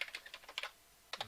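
Quiet, close keystrokes on a computer keyboard, a quick run of light clicks, a short pause, then two more taps, faint and alone without speech.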